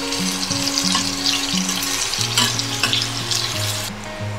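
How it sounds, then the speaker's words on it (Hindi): Onion pieces frying in pink-cooked masala in a pan for a rustic mushroom curry, a steady close sizzle with a scraping spatula stirring throughout and a low background hum. "प्याज को यहाँ अच्छी तरह से भून लेना है"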